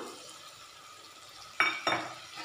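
Tomato pieces tumble into a pan of simmering aloo-brinjal curry, giving two quick bursts of clatter and sizzle over a soft steady cooking hiss, close by with no talk.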